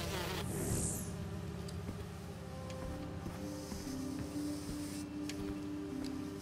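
A swarm of bees buzzes in a lab in Marvel's Spider-Man 2, a dense, continuous droning hum that wavers in pitch, with a brief whoosh near the start and no talking.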